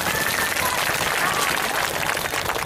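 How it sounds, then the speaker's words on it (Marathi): A crowd of women at a rally in Yavatmal district demanding a ban on liquor claps together in a dense, sustained wash of applause. "सर्वांनी स्वतःसाठी एकदा जोरदार टाळ्यांचा कडकडाट केला पाहिजे"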